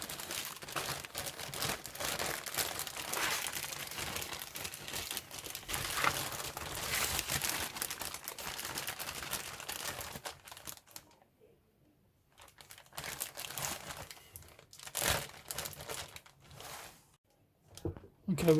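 Plastic bags holding Revell 1/48 F/A-18E Super Hornet model kit parts crinkle and rustle up close, dense handling that breaks into quieter pauses and short bursts of rustling later, with a voice talking at times.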